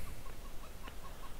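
Chickens in the farming video game Farming Simulator 2013 make soft, repeated clucks in a steady rhythm, quiet and close, with no talk over them.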